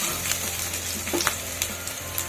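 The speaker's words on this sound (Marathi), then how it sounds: "लसूण भाजून घ्यायचा चांगला खरपूस लाल होईपर्यंत चांगला तळून घ्यायचा असा" Garlic frying in oil until golden red for vada pav, a brief, close and steady sizzle with a few light stirring taps, no voices.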